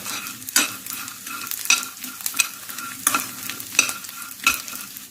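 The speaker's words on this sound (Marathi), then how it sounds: "डिंक मी तुपात मस्त फ्राय करून घेतलेला आहे" Edible gum (dink) frying and puffing in ghee, a steady sizzle broken by a regular series of sharp stirring scrapes and clinks against the pan, close and clear with no talk.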